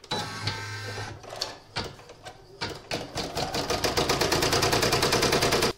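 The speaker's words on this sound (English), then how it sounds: "I'm going to pop it into my machine and stitch the outline." An embroidery machine stitches an outline, giving a rapid mechanical needle clatter that starts in uneven bursts and settles into a fast, continuous, steady rhythm, close and fairly quiet, with no voices.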